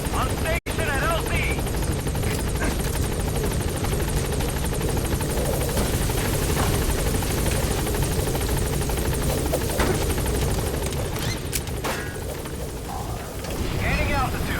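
Pequod, the helicopter in Metal Gear Solid V, arriving at a landing zone: loud, continuous rotor thump and engine roar that fills the whole stretch, with in-game radio chatter over it.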